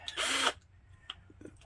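A power drill with a magnetic bit drives tiny screws into RV cabinets, giving one short, close, loud whir that is followed by faint clicks and handling noise.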